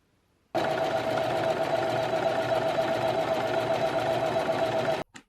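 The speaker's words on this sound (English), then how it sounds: "Now I have the flounce pinned in place at the bottom, and I'll stitch that all the way around." A sewing machine stitches a flounce onto a garment hem in one loud, steady, continuous hum for about four and a half seconds before stopping abruptly, with no talk.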